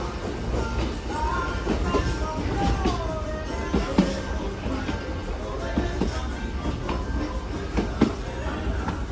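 Passenger train rolling on tracks between Puno and Cusco, Peru, with a steady rumble, occasional clacks and faint wheel squeals, heard from inside the carriage under murmuring voices.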